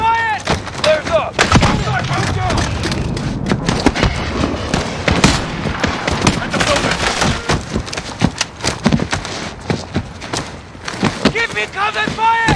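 Call of Duty Modern Warfare gunfire and artillery, with dense bursts of rifle and machine-gun shots and heavy booms rattling on nonstop, loud and close, while voices shout over the battle.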